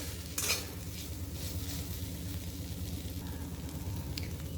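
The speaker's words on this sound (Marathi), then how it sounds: "आता ही परतून घ्यायची आहे" Green chili thecha with oil stir-fried in a pan: a steady close sizzle with scraping spatula strokes against the metal and an occasional clink, no voices.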